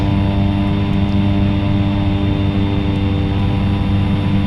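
In the X-Plane 11 simulator, a Cessna Caravan's turboprop engine holds a loud, constant droning hum in flight, with no change in pitch or level throughout.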